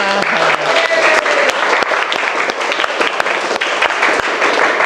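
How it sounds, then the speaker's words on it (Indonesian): A vocational automotive class applauds in a classroom, a dense, loud round of clapping from many students that lasts several seconds with sharp individual claps, and a brief voice at the start. "tepuk tangan untuk kita"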